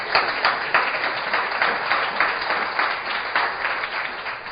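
A church congregation claps during a bishop's sermon, a fairly quiet, steady patter of many hands with a loose rhythm, heard from a distance.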